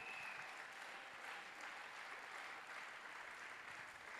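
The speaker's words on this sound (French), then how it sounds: "Oui, acclamez pour Jésus. Let's clap." A church congregation at a French-language praise and worship service claps for Jesus, dense sustained applause filling the room evenly from start to finish with no break.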